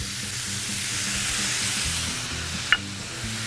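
Shrimp chow mein sizzles loudly in a hot pan as vinegar and tamari are added, with a steady bright hiss, low utensil stirring knocks and one sharp clink near the end.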